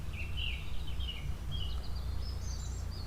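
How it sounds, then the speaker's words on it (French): Faint bird chirps and short whistled calls drift in from a distance in a quiet, secluded outdoor spot, heard over a soft steady background rumble. "t'entends les bruits des oiseaux"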